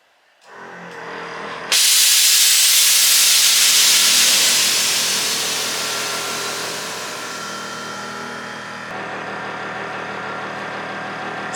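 Air suspension bags on a 1963 Chevrolet C10 pickup dump with a sudden loud, close hiss that rushes out and then slowly fades over several seconds, with no one talking.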